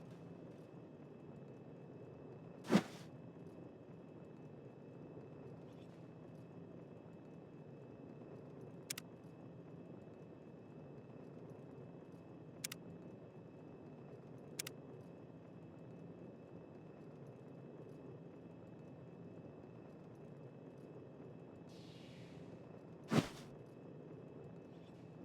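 Sharp metallic clicks from objects clipping into each other in a Fallout New Vegas decorating mod, a few isolated ticks spaced seconds apart over a very quiet, low room hum.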